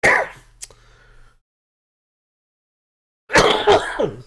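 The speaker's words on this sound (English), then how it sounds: "At least I'm gonna get all these coughs out." A person coughs a couple of times during a podcast recording, short and close, followed by a long silence and then another throaty cough burst.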